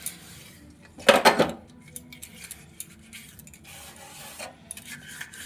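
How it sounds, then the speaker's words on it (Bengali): Metal puja utensils are scrubbed and washed, giving a loud clatter of metal dishes near the start followed by softer rubbing, scraping and light clinks close by. "একটু কসবাইটটা নিয়ে রগড়ে নিলাম হালকা করে।"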